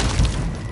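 A flashbang grenade goes off in Call of Duty Modern Warfare 2 multiplayer: one short, loud, thick boom with a dense rumbling body, heard close.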